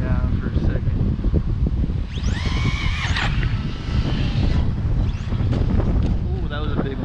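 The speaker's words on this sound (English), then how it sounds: "I just don't want the wind to push it back. It's coming in this direction." Strong wind buffets the microphone at an outdoor skatepark, a steady loud rumble throughout with gusts, whining motor and squealing tones from a remote-control car, and voices talking over it.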